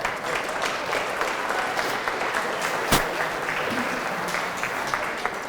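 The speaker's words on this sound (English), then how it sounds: "Round of applause." An audience claps steadily at an investor information dinner, a dense, even round of applause with one sharp louder clap partway through.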